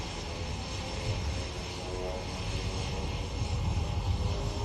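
An aerobatic propeller airplane makes a photo pass at the Warriors Over the Wasatch military air show in Utah, a loud, continuous engine roar that swells slightly as it passes close by, with no voices.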